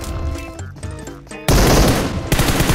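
Loud, rapid automatic gunfire from a PUBG Mobile match breaks in mid-clip as a dense continuous burst, following a shorter stretch of game sound effects.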